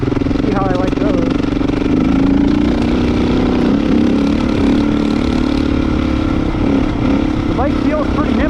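A 2025 Beta 350 Race Edition dirt bike runs steadily while being ridden, its engine holding a continuous loud drone with slight revving swells, close to the microphone and without pause.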